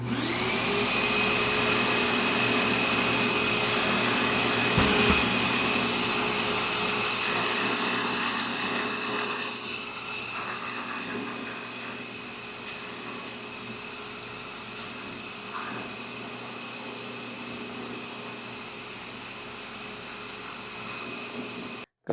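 A buffing wheel spins steadily against a Comoy's Marble Arch pipe, giving a loud continuous motorized whine with a high tone that slowly eases and softens over the span, with no voices.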